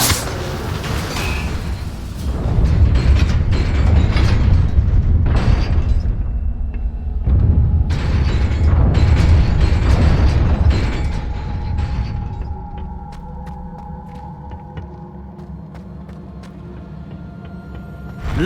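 A fiery spell effect from a Harry Potter video game, heard as a series of heavy booming whooshes and bursts that crowd the first twelve seconds, then die down into a lower rumbling tail.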